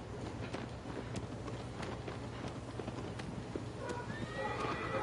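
A horse gallops in the video game Shadow of the Colossus, its hooves keeping up a steady clip-clop rhythm over a constant windy wash, with a short whinny near the end. The sound is close and continuous, and no one speaks.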